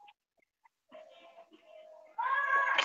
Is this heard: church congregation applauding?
no